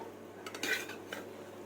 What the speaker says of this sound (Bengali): খুন্তি দিয়ে আমাকে আস্তে আস্তে করে বেগুনটা তুলতে হবে